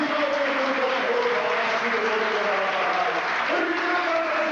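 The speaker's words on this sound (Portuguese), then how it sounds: "vamos dar uma salva de palmas para o Senhor nosso Deus" A church congregation claps together in a steady, dense burst of applause that fills the room, loud and continuous throughout with no pause.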